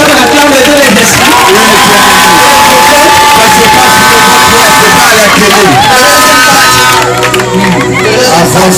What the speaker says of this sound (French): Est-ce que tu peux acclamer?